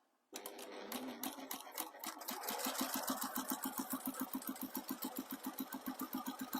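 A sewing machine runs continuously, stitching along one side of a fabric piece, its rapid even needle clatter and motor whir close and loud after a brief silent start.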